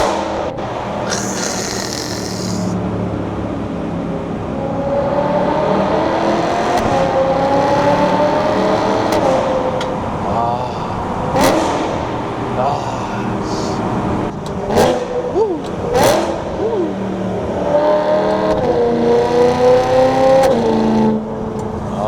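A BMW E92 M3 accelerates and revs while being driven, the engine note rising and falling in long sweeping pulls, loud and close throughout with brief gaps between throttle bursts.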